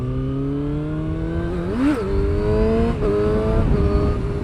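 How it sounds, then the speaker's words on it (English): A dirt bike engine revs loudly and close, the pitch climbing and dropping in quick throttle blips around a steady rough drone while riding through Holland. "It's a dirt bike, brother."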